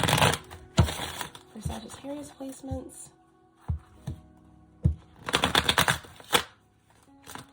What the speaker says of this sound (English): let's get a few shuffles in